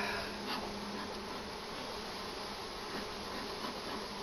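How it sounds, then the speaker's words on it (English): Steady insect buzzing of many honey bees at an apiary, continuous and fairly close, with no talking. "starting to have bees fly around"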